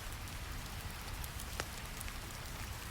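Steady rain patters on surfaces as an even, soft wash, with occasional sharper drops standing out and no voices.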